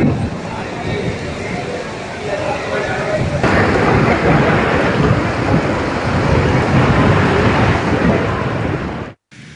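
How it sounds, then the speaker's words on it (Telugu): Heavy rain pours down during a thunderstorm with gusty winds over the plains of Vizianagaram district, a loud, dense, continuous roar that holds steady before cutting off abruptly at the end. "మైదాన ప్రాంతంలో ఉదయం నుంచి వర్షం పడుతోంది"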